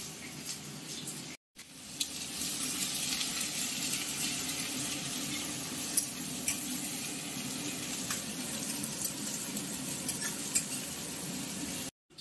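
Whole green chilies and onion sizzle steadily in hot oil with dried chili, nigella seeds and crushed garlic, a close, even frying hiss with light stirring after a brief gap at the start.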